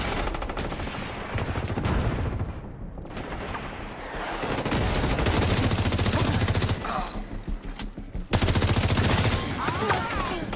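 Heavy automatic gunfire in The Division, rapid bursts of loud shots rattling almost continuously with brief gaps, close and dense, with occasional voices mixed underneath.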